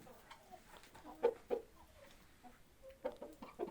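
Faint clucking from chickens and roosters, with a few short, scattered calls over a quiet background.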